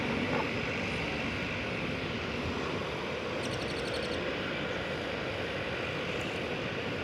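A Frontier Airlines airliner arriving at DFW Airport, its jet roar a steady, broad rumble held at even loudness throughout, with faint higher chirps briefly in the background.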